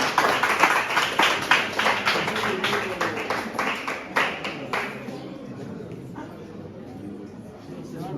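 Steady clapping from a school quiz finals audience, a burst of applause that fades out after about five seconds, with faint voices in the background.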